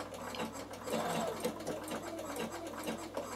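A Bernina sewing machine stitching steadily, a fast even mechanical whirr and needle patter heard close and alone at low volume.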